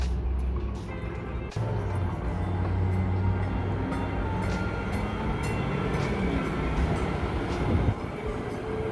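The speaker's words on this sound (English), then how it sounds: "Train approaching." A Baltimore Metro subway train rumbles steadily into a station, wheels grinding and brakes squealing faintly, with a sharp clunk early on and a swell near the end.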